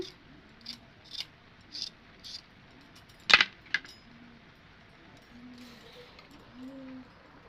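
Potatoes being cut with a knife for a cabbage-and-potato dish, giving a few sharp, separate chopping and clinking strikes, one louder cluster in the middle, over a quiet kitchen background.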